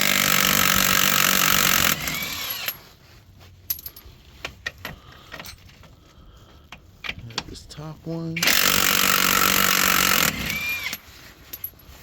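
Loud bursts of a pneumatic impact wrench removing nuts during a Buick LaCrosse strut replacement, rattling at the start and end, with someone talking briefly and clanking metal in between.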